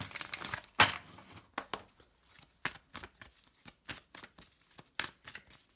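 Oracle cards are shuffled by hand in quiet, close bursts of riffling and soft slaps, spaced irregularly with pauses, with no talking over them.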